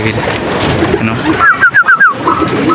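A breeder pigeon hen gives a short run of about five soft, rhythmic coos close by, with loud background noise running underneath.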